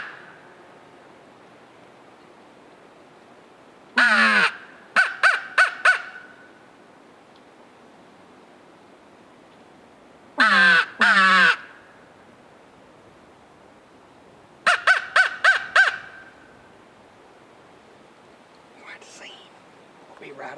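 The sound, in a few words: turkey hunter's crow call imitating crow caws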